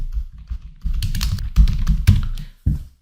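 Computer keyboard keys clatter in a quick burst of typing, a run of close, crisp taps with brief pauses between clusters and a firmer keystroke near the end.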